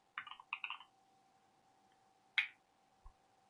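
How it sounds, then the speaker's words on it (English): A few sparse key clicks on a computer keyboard: a quick cluster of taps, then two isolated presses, faint and close over a steady low hum. "Hope you guys don't mind my typing here."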